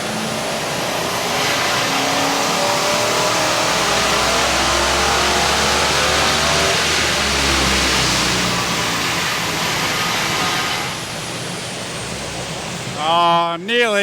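An old 5-litre Ford Windsor V8 revs hard on a chassis dyno, a loud sustained roar that holds high for about ten seconds before dropping away, with a brief rev-down burble at the end.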